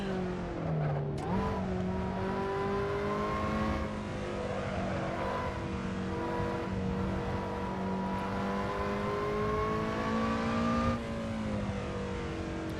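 A mid-engine sports car, either a Lotus Elise SC or a Toyota MR-S, revs hard on a time attack lap, its engine note climbing and shifting steadily from inside the cabin, loud and continuous throughout.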